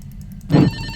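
In a Backrooms video game, a walkie-talkie rings with faint repeating electronic tones, then a brief louder burst of static crackle cuts in near the middle before settling back into a low hum.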